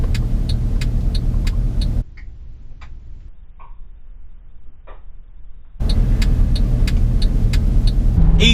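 A 490 bhp Mercedes C63 AMG drives with a loud, steady engine roar and a regular ticking pulse. It drops away to near quiet for a few seconds, then returns just as strong.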